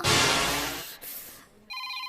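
A telephone rings in a domestic scene, a loud electronic ring that fades and breaks off, then a shorter tonal ring starts again.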